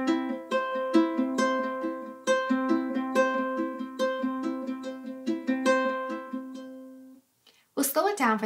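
Ukulele fingerstyle pattern for the Hillsong song Cornerstone played at full speed, plucked notes falling in a steady repeating rhythm for about seven seconds before ending, followed by a brief voice.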